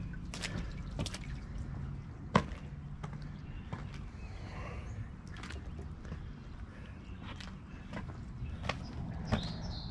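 Water runs and drips inside a storm drain tunnel, with a constant trickling wash under sharp, irregular drips and splashes that echo at varying loudness throughout.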